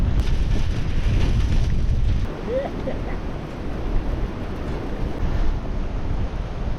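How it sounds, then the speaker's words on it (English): Strong coastal wind ahead of a cyclone buffets the microphone in rumbling gusts, easing slightly partway through, with surf-like wash in the background. "you do get the occasional gust of wind"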